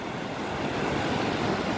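Strong waves rolling toward the shore at low tide in Matavera, Rarotonga, Cook Islands, a broad continuous roar of surf mixed with wind buffeting, steady and close with no distinct individual breaks.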